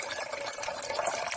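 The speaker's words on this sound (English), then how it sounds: "Also gonna add some whiskey." Whiskey poured into a bread pudding mixture with a steady, close liquid splash and gurgle that runs without a break for just over a second.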